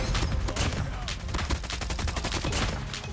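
Rapid bursts of Kilo 141 assault rifle fire in Call of Duty Mobile, loud and close with a dense, continuous rattle of shots running through the whole stretch.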